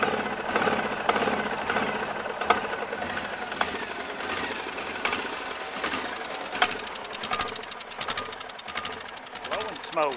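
A Case diesel tractor engine runs after a cold start, giving a steady rough clatter and rumble with sharp knocks throughout, fairly close, with people talking faintly underneath.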